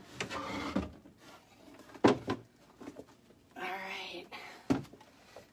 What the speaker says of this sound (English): so I will take the drawers out first